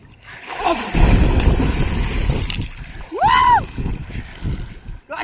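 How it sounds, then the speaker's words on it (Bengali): A person ducks into a river: a sudden broad splash and churning water, followed by continued lapping and sloshing nearby, with a brief rising and falling vocal sound in the middle. "তো আগে কিন্তু বেশিরভাগ সময় আমরা নদীর মধ্যে কাটাইতাম, ডুব দিলাম গাইস।"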